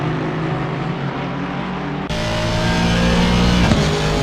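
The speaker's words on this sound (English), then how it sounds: "Rather dirty sounding Aston" An Aston Martin race car engine revs in Assetto Corsa Competizione, giving a loud, rough, steady drone that climbs sharply partway through with no talk over it.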